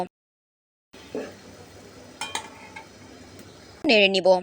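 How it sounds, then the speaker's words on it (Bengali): Onion, chili and ground turmeric, cumin and chili powders stirred in oil in a pan for dim aloo dal, a soft scraping and sizzle after a brief silence, ending in a louder burst of clinking utensil scrapes. "তারপর হলুদ গুঁড়ো জিরার গুঁড়ো মরিচের গুঁড়ো পরিমাণ মতো দিয়ে কিছুক্ষণ নেড়ে নিব।"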